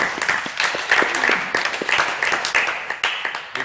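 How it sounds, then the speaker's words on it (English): Clapping from a church congregation, a steady mix of many hands with sharp individual claps standing out, close and lively throughout. "You better lift a clap of faith to Jesus"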